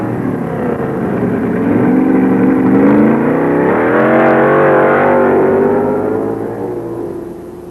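A Pro Stock drag race between Ronnie Sox and Bill Jenkins, with a loud engine roar that swells and climbs in pitch as the cars accelerate down the strip, then fades toward the end.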